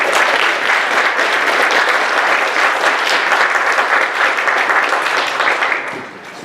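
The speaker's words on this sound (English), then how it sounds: "Give them a round of applause." An audience at an airsoft meetup gives sustained, loud applause for the event sponsors, dense clapping from a large crowd that holds steady and then tapers off at the end.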